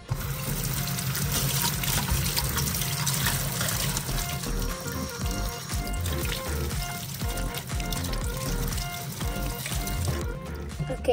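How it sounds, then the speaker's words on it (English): Running water wets the hair of a Rainbow High fashion doll over a toy pool. The trickle and splash stay steady and close for the whole span, with light handling noise. "Okay, so I wet his hair."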